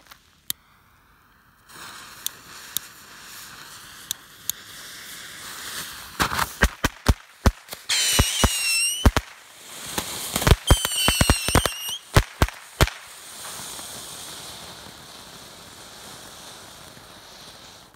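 Three glitter fountain fireworks burn together outdoors at night, with quiet beginnings building into dense, irregular crackling pops and sharp snaps that fade into a soft background hiss.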